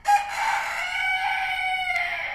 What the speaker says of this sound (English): Can you crow like a chicken?